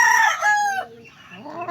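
A gamecock crows once, a loud, clear, strained cock-a-doodle-doo that breaks off partway, followed by a few softer throaty clucks close by.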